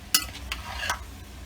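A spoon stirs a chilli mixture in a pot for chilli and cheesy cornbread, making a quick series of scraping strokes over a low background simmer.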